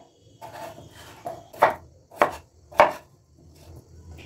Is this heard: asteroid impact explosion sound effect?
no